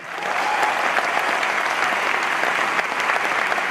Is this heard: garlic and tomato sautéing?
no